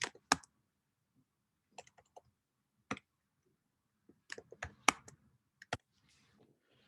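Sparse clusters of keyboard key clicks, close and crisp, with short bursts separated by silent pauses.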